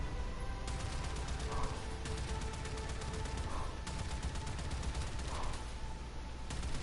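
Rapid mechanical firing from a missile ability in the video game Warframe during a Railjack ship battle, a steady stream of dense repeating bursts with no talk over it.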